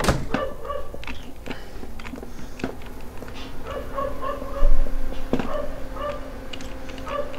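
A dog in the Minetest block-building game barks, yips and whimpers in short repeated bursts, fairly close and loud over a steady background drone.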